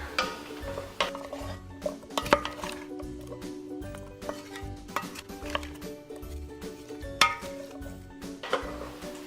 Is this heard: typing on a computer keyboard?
no